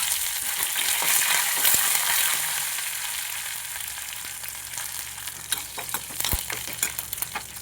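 Curry leaves and dried red chillies frying in hot oil for Kerala-style sambar, a steady bright sizzle that fades gradually, with occasional pops and crackles near the end.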